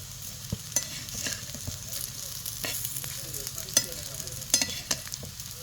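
Spiced cucumber vadi shallow-fry in a little oil in a pan, browning on both sides, giving a steady soft sizzle broken by scattered sharp pops and crackles, close up with no talking.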